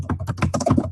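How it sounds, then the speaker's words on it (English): Quick keystrokes clatter on a computer keyboard, a dense burst of close, rapid taps lasting about a second. "I'm just typing the title or a variation of."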